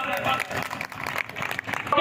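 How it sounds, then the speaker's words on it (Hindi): Audience applause at an outdoor poetry gathering in Sitapur held in memory of fallen soldiers; a loud, dense, continuous crowd clapping fills the whole moment, with a voice mixed in. "एक बार फिर से तालियों से स्वागत करें बादल"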